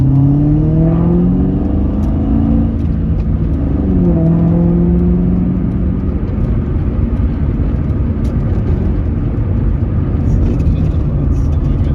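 A Ford Mach 1 Mustang with a five-speed manual cruises in traffic, its engine droning loudly and steadily with rising and falling pitch as gears change, wind and road noise throughout and no talk.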